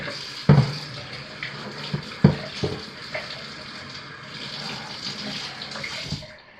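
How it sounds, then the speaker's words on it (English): Running water splashes over a stick blender head being rinsed during soap making, a steady tap stream broken by several sharp knocks and clatters. "Let me rinse this off quickly."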